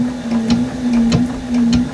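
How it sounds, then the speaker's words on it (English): A sewing machine runs steadily while stitching a quilted fabric bowl cozy, holding a constant motor hum broken by rhythmic clicks of the needle at roughly half-second intervals, close and alone. "I do need to go on and get this part under the machine or the needle, because I am going to go on and stitch"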